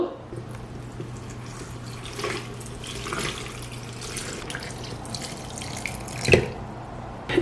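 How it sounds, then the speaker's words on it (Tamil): Lime juice trickles from a mixing vessel into a pickle bottle, a soft, steady pour with faint drips and a brief clink near the end, recorded close and quiet. "தேசிக்காய் சாரை வந்து இப்போ இதுக்குள்ள விடுங்கோ"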